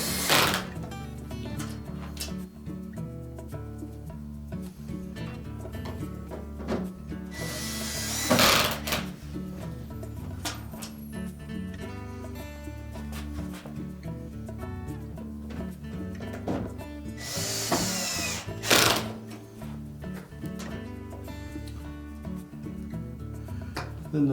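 A power drill drives screws into the plastic control panel of a Frigidaire dishwasher during a latch repair, with two short whirring bursts standing out from a low steady background hum, close by.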